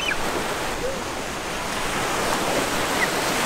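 Ocean surf at a crowded beach near Enoshima, Japan, a steady broad wash of breaking waves with some wind rumble, continuous and fairly close, with no clear talk.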